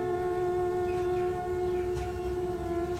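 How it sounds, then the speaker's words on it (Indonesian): Steady rumble of a moving train at constant speed, used as an effect in a night-time audio story, with a continuous low drone and sustained tonal hum running throughout, close and even in loudness. "kereta melaju dengan kecepatan yang stabil"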